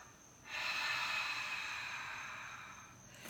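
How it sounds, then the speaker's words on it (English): One long, forceful exhale of breath during a hip stretch, a close, breathy rush that starts abruptly and slowly fades over about three seconds. "Exhale all your breath out."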